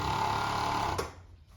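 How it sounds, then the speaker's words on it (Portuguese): Sewing machine stitching pajama fabric, a steady close motor whir running for about a second before stopping, leaving quiet room tone. "A gente vai costurar isso."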